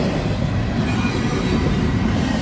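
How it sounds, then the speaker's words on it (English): A train rolls past loudly and close on tracks near a mountain viewpoint in Mount Robson Provincial Park. The clatter and grinding wheels make a continuous roar for the whole stretch. "Stand by the side of the tracks and watch the awesome majesty of a train go by."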